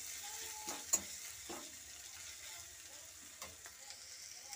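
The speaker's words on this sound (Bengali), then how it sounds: "ভালো করে আমি ভেজে নিচ্ছি তেল দিয়ে।" Egg and soybean frying in white oil give a faint, low sizzle, with a few soft spatula scrapes and one sharp clink near the start, quiet and without talk.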